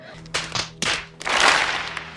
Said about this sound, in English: Jill was applauding.